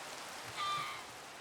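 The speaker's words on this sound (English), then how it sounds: "This rain is so loud." Steady rain falling in the Minecraft game world, a constant soft hiss and patter with a faint brief tonal blip partway through, no talking.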